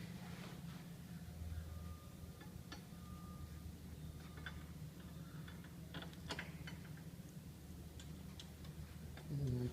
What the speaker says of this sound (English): And we're going to bolt this bracket up.